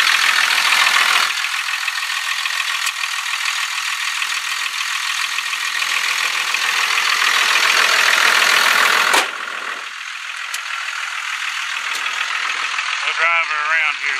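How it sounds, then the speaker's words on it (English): A 1999 Dodge 3500 truck idles just after starting, with a steady, close rumble that dips briefly partway through before holding even again. Voices talk over the engine. "She cranks right up from the key. Sounds like it's coming."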